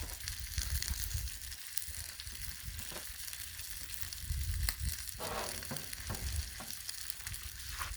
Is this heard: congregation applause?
no